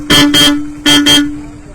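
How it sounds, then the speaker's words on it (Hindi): A loud pressure horn fitted on a motorcycle, stopped at a traffic checkpoint in Kathua, blares in two double blasts, each pair of short sharp toots separated by a brief pause, close and with no talk. "ये देखिए प्रेशर हॉर्न लगे हुए हैं।"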